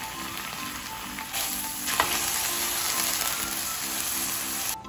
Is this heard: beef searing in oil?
yes